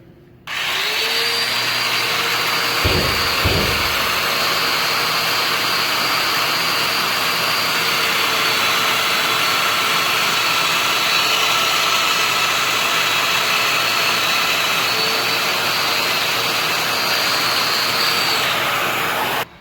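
A Festool Domino DF 500 joiner plunge-cuts a centered mortise into the end of a slim piece of 3/4-inch wood. Its motor whines loud and steady for about nineteen seconds, with a couple of brief low thumps near the start.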